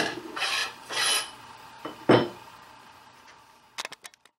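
A rasp is dragged across a tomahawk head in two long scraping strokes, followed by a single sharper scrape and a few light clicks and taps at the end, close and fairly quiet.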